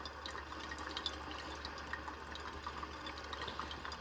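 Hot water flowing out of an old late-1970s to early-1980s drip coffee maker, a steady low trickling and gurgling stream that continues evenly throughout at moderate volume with no talk.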